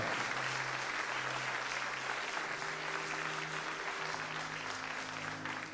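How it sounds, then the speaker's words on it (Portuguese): Church congregation applauding loudly during a sermon, a dense sustained clapping that carries on throughout with a sung or held tone beneath it. "Aplauda bem forte ao Senhor."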